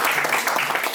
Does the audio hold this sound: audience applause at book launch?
yes